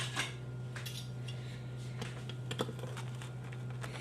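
A knife cuts through a hot gluten-free vegan quinoa flatbread on a board, making a few faint scattered taps and scrapes against a low steady background hum.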